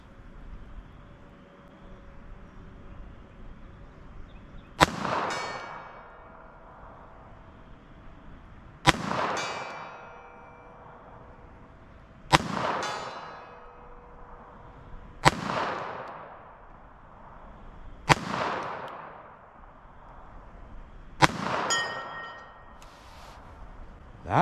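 Six sharp metallic clangs of bullets hitting a steel plate guarding a downrange camera at a 75-yard shooting range, each ringing out and decaying over a few seconds, evenly spaced several seconds apart.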